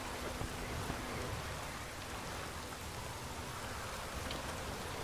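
Steady rain falls in a medieval fantasy role-playing video game, The Witcher 3: Wild Hunt, a dense, even hiss of drops on surfaces lasting throughout with no talk.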